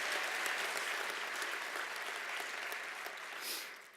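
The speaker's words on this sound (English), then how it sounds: "So we need to give her a round of applause, because that's impressive." An audience applauds steadily at the 2018 Virginia Sports Hall of Fame induction ceremony, a dense wash of clapping that holds for the whole stretch, swelling briefly near the end with no voice over it.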